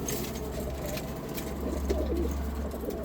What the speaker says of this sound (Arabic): حبايبنا طيور درجة أولى